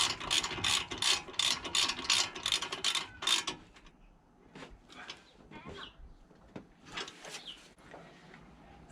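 Ratchet fastening the front brake caliper bracket on a BMW E53 X5, a quick series of sharp, close clicks for about three seconds, then quieter scattered metallic taps and handling noises.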